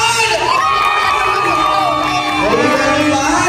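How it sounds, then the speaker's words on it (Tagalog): Wedding guests cheer and shout loudly together, a dense, continuous crowd roar with overlapping voices and whoops lasting throughout. "Pwede ko po bang marinig ang inyong isang malakas na palakpakan na may sigawan?"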